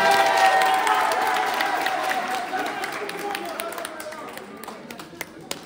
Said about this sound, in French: On peut l'applaudir Maïva s'il vous plaît?